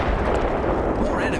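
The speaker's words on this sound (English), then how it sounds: "I am taking fire, friends." Dense, continuous roar of rapid gunfire in the video game Apex Legends, loud and unbroken throughout the short stretch, with a voice speaking over it.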